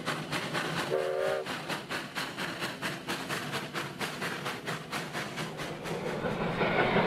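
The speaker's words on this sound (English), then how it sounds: "Now running forward, number 29 departs for Virginia City with a load of passengers" Virginia & Truckee steam locomotive No. 29 pulls away with a passenger train, its exhaust chuffing in a steady, rapid beat, a brief whistle note early on, loud and close without voices.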